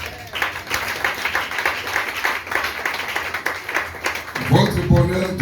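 A church congregation at an independence celebration service applauds in a sustained wash of clapping that fills the room, then a voice starts speaking at the end.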